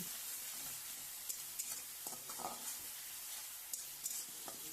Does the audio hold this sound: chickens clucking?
no